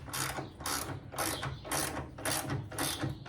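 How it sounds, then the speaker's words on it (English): A ratchet tightens 13 mm nylock nuts on a VW Super Beetle's steering and strut tower components, giving six quick, evenly spaced bursts of clicking, close and clear with no talking. "I gotta tighten them bolts down."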